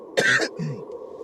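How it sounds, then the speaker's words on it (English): A single person gives a sharp, raspy throat clear that breaks into a brief cough, close and fairly loud, followed by a softer rough exhale in an otherwise quiet room. "This is the worst time for me to have a coughing spell."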